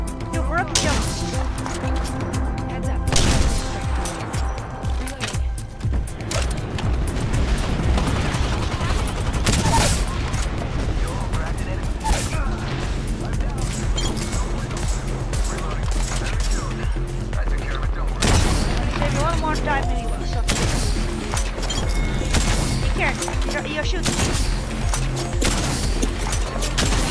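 Gunfire rattles through an Apex Legends match in dense, sustained bursts of automatic shots and impacts, loud and nearly continuous, with game noise around it.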